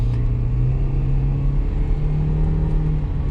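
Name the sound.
2008 Toyota Prius accelerating at full throttle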